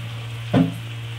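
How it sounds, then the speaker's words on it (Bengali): Chowmein ingredients frying in refined oil in a pan, a brief close sizzle swelling for a moment over a steady background hum. "এগুলোকে ভালো করে ভেজে নিই। একটু রিফাইন অয়েল আমি এর মধ্যে দিয়ে দিলাম"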